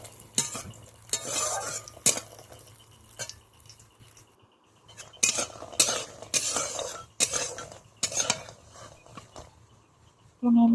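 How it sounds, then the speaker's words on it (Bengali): Lentil dumplings (bori) fry in oil in a pan for Bengali sukto, with loud, intermittent bursts of spatula scraping and stirring over a soft background sizzle, separated by brief quieter gaps. "বড়িটা নাড়াচাড়া করে ভেজে তুলে নেব।"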